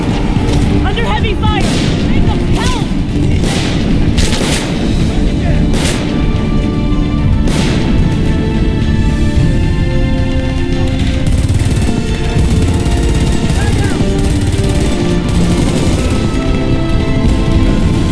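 Gunfire and explosions from an intense firefight in the video game Homefront, with dense, continuous loud bangs and sharp cracks crowding the soundscape beneath frantic shouted voices.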